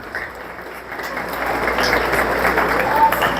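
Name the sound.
church congregation applauding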